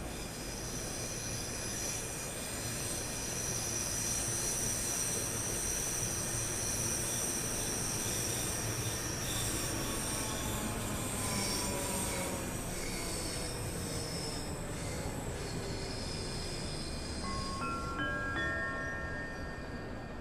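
Train 314 pulls into Cathcart station in Train Sim World 3, with steady rolling rail noise and high wheel squeals that rise near the end as it comes in close.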